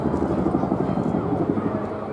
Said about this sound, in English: Royal Air Force Chinook display here at Bournemouth.